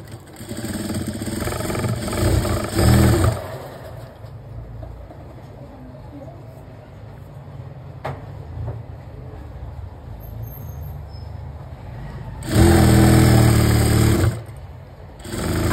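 Electric sewing machine stitching palazzo pants, two loud close bursts of whirring motor, one early and one near the end, separated by quieter handling sounds with no talking.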